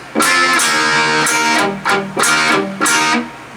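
A loud electric guitar plays a short riff of chords with chunky, palm-muted chugs in between, in a quick uneven rhythm.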